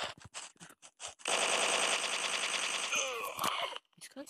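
Sustained automatic gunfire from a weapon in a video game, a dense rapid burst running for about two and a half seconds after a few short separate shots, loud and close, ending with scattered clatter.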